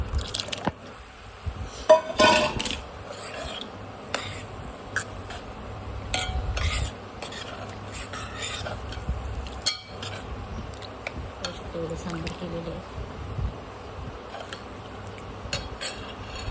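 Sambar is stirred in a metal pot, a spoon clinking and scraping against the sides in irregular bursts, close and fairly loud, with quiet gaps between strokes.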